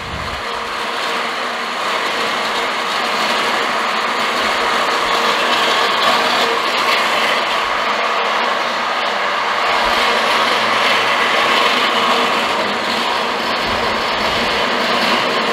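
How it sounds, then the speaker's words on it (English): The blades of a meat-processing machine blending beef with added spices for homemade hot dogs, a loud, constant mechanical whir and grinding drone with little variation. "those knives are gonna blend them in for me."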